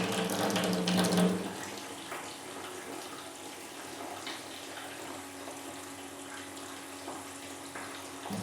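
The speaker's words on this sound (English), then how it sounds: "We'll be running some of this really dirty chlorinated water here through the filter" Dirty chlorinated water pours from a kitchen faucet through a PUR PLUS PFM350V faucet filter, a steady close hiss of running water that swells briefly at the start, then settles into an even flow.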